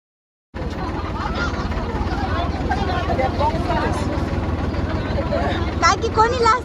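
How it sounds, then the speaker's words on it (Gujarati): A tractor being driven with passengers aboard, its engine giving a continuous low rumble and rattle from start to finish, with people talking and chatting over the steady noise. "આ અમારા મીરાબેન ડ્રાઈવર બેહી ગયા છે ટ્રેક્ટર ચલાવવા."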